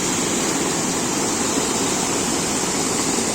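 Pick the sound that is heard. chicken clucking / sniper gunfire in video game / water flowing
water flowing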